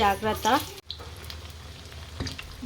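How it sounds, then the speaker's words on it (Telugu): Egg bajji batter frying in hot oil gives a steady, close sizzle with small crackles and spits, after a brief burst of talk at the start. "జాగ్రత్త అండి, ఇది ఎగ్స్ కదా, మధ్య మధ్యలో చిల్లుతూ ఉంటాయి."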